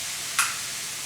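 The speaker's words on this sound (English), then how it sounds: "So take the lighter, so you can hear it sizzle" Brandy flaming on saganaki cheese in a skillet, giving off a steady, bright sizzling hiss throughout, with a brief sharp burst near the start as it catches.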